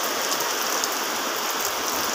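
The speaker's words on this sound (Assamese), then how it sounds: "পুৰা বৰষুণ" Heavy rain pours down outdoors near a road, a dense, even hiss of drops that stays loud and unbroken throughout.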